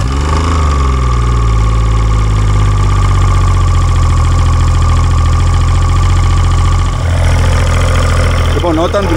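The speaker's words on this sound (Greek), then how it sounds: "όταν δουλεύει ο κινητήρας μας" An outboard boat engine idles after its lower-unit gear oil change, a loud, steady, close chugging hum holding even for most of the stretch before a brief dip and change near the end.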